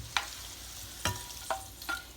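Tofu stirred into sesame peanut noodles in a pan with the heat off: three or four soft, scraping stir strokes spaced about half a second apart, close and fairly quiet, with no voices.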